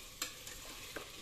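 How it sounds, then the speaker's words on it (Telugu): Onions frying for a masala, with a faint steady sizzle and a few brief scraping stir sounds at irregular moments, quiet and close. "మసాలాకి ఆనియన్స్ ఫ్రై."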